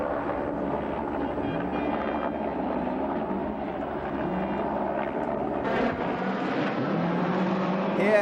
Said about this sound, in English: the distinctive crackle and bark of the flat four Subaru engine is a hit with the Portuguese